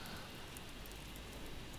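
Rain falls in the survival video game ICARUS, a steady dense hiss with faint drop patter that carries on with no talk.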